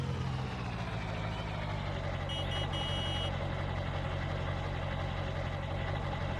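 A truck engine idles steadily in Farming Simulator 19, with a short run of high reversing beeps partway through and a constant low rumble.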